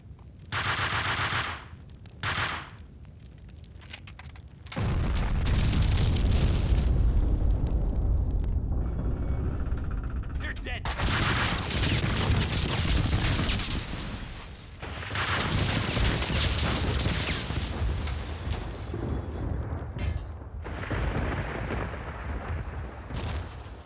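Explosives going off in the Max Payne 2 video game, deep, loud broadband blasts and rumbling bursts recurring through the clip, mixed with heavy gunfire and sustained roaring debris.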